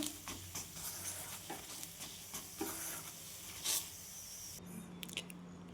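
High-protein breakfast batter roasting in a pan until crisp, a steady soft sizzle with scattered scraping and stirring clicks, close and moderately quiet, with no one speaking.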